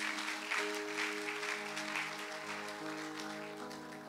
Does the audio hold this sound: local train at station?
no